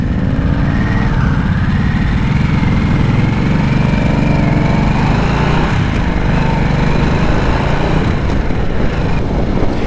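A 2024 Harley-Davidson Nightster Special RH975S motorcycle engine drones steadily while riding, loud and close, with rising and falling revs mixed with wind rush.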